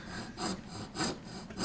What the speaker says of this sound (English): I'm using a coping saw and then a chisel just to cut that dovetail out